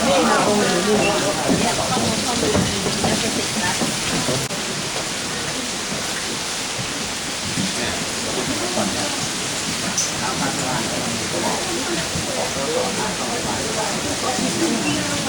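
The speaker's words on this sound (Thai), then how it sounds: "ฝนตกต้องใส่เสื้อฝน" Heavy rain falling steadily during a group trip to Zhangjiajie, a dense, continuous hiss that fills the whole stretch, with no clear voices rising above it.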